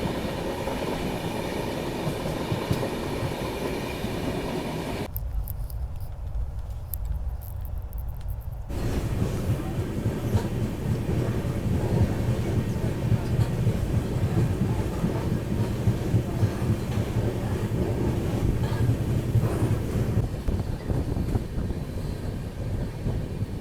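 The Poorvottar Sampark Kranti train runs on the rails between Delhi and Guwahati, a continuous loud rumble and rattle with a brief shift in tone partway through, steady throughout with no voices.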